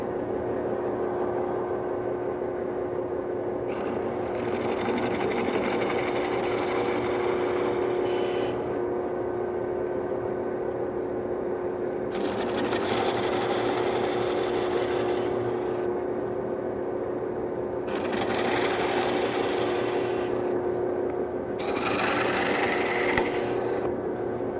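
A plug cutter bit drilling wood plugs in a workshop, a steady, continuous droning whir with periodic rises and dips in pitch as the bit bites into the wood and eases off, sustained close and loud throughout.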